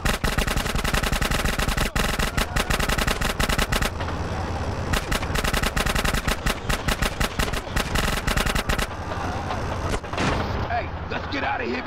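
Rapid, steady gunfire rattles loud and close during a chase alongside a moving train in GTA San Andreas, dense repeated shots with engine noise and brief character talk underneath.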